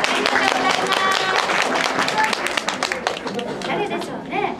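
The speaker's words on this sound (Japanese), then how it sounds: "拍手ありがとうございます。" Applause from a gathering at a Japanese celebration for the elderly, a brisk patter of clapping mixed with voices and chatter, thinning out partway through while talk carries on over it.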